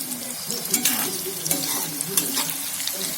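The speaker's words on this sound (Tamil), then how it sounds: "நல்லா டீப் ஃப்ரை, நல்லா மொறுமொறுன்னு பொரிச்சு எடுத்துக்கோங்க" Food crackles and sizzles steadily as it deep-fries in hot oil for a spicy green pea and potato curry, with intermittent stirring scrapes and spatters close by.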